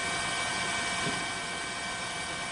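News helicopter flying over the tsunami-hit coast of northern Miyagi Prefecture in 2011, a continuous loud rotor and engine roar with a steady whine, no voices.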